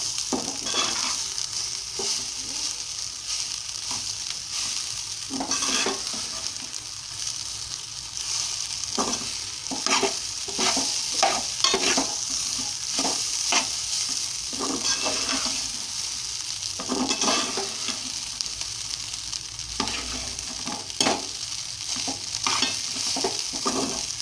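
Fried rice seasoned with salt and chilli powder tossed and stirred in a hot pan, a constant loud sizzle with rapid repeated spatula scrapes and clatters throughout, close and without speech.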